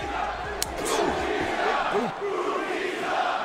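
Large WWE wrestling arena crowd chants loudly in unison during Batista's 2014 comeback, a dense, sustained roar of voices filling the whole stretch with a few sharp accents.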